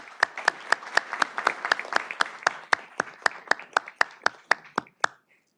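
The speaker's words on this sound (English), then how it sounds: "Let's give them a round of applause." Applause for youth scouts from Troop 38 at a city council meeting comes as a sparse run of sharp, evenly spaced claps, about twenty in a steady rhythm, before stopping abruptly.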